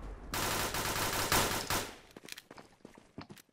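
Rapid automatic gunfire from a shooter video game rattles in a dense burst for about two seconds, then breaks into scattered shots and footsteps.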